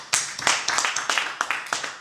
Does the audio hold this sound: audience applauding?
yes